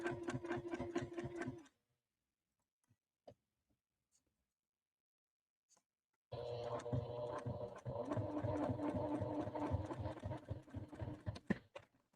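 Sewing machine basting fabric at a home sewing session, running in two bursts of rapid, steady stitching with a quiet pause between them, close and fairly loud.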